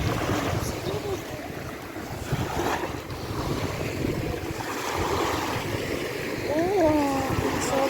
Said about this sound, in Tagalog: Oh, sobrang hangin dito guys.